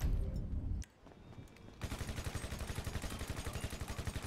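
Rapid automatic gunfire at a petrol station in the video game GTA 5, a steady burst of evenly spaced loud shots following a brief lull after an earlier noisy stretch.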